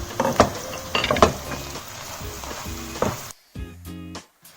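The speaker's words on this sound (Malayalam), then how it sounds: "നമ്മുടെ തേങ്ങാക്കൊത്തിട്ടു, അതൊന്ന് നല്ലതായിട്ട് ഇളക്കിയെടുക്കണം." Coconut pieces fry and sizzle in a pan for a prawn roast, with scraping stirs and wooden clatters over a steady crackle, then the sizzle drops away near the end into a few brief, quieter bursts.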